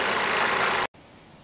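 A 2018 Chevrolet Malibu's 1.5 liter I4 engine idles with a steady, moderately loud hum, breaks off with a brief dropout, then continues at a lower level.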